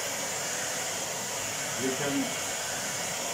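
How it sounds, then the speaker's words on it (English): A hair dryer blows a steady, loud airy rush to melt ice inside a fridge, with a voice briefly speaking over it. "Now we have to on the air dryer."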